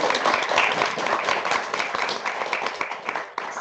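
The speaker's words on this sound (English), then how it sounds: "just wave and give them a round of applause" A community meeting audience gives a round of applause to two volunteers standing up, a thick, even burst of close clapping that holds steady for a few seconds.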